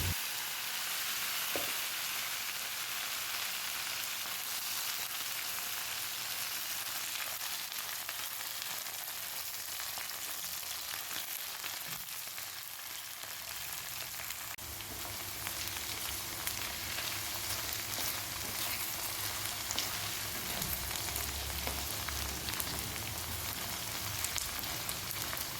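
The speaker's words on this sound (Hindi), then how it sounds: "फिर वो जो भिंडी थी तल के हमने 5 मिनट तल लिया" Chopped okra frying in oil in a home kitchen pan, giving a steady, dense sizzle and crackle that runs continuously at close range with no one speaking.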